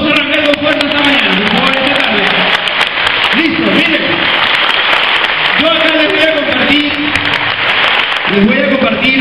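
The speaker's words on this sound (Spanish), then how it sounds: "todos los socios, todos, un fuerte aplauso a los invitados" Loud applause from a conference audience greeting invited guests at a morning business presentation, dense clapping sustained throughout with music or voices running underneath.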